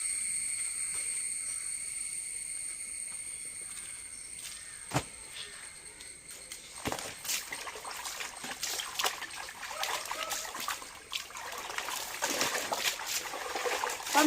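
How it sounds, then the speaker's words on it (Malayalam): Clothes are washed by hand in a tub of water at home: quiet trickling and dribbling, with scattered splashes and sloshes that grow busier in the second half. "ആ വെള്ളത്തിൽ വീണ്ടും ബാക്കിയുള്ള തുണികളൂടെ അലക്കാം."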